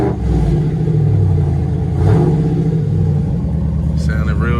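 The 392 engine of a 2021 Dodge Charger Scat Pack revs with a deep, steady rumble that swells briefly midway, heard close up, with a voice faintly present.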